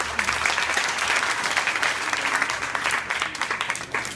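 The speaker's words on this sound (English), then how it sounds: "I'd like to give her a round of applause." Audience applause fills a primary school graduation ceremony, a steady dense wash of clapping hands that holds at even loudness throughout, with faint crowd murmur underneath.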